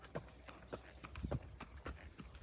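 Hooves of two buckskin geldings clip-clopping in an uneven, loose rhythm of soft thuds at close range outdoors, with faint background noise between steps.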